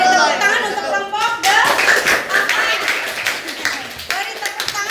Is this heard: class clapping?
yes